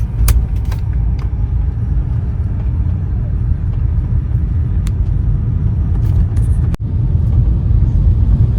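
BMW E46 318i with M43 engine driving through city streets at night, a steady low engine and road rumble from inside the cabin with a few faint clicks and knocks.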